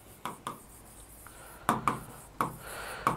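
Chalk or marker strokes on a board during a Bengali lecture, heard as a run of short, close taps and scrapes in irregular clusters with brief quiet gaps between them. Nobody talks.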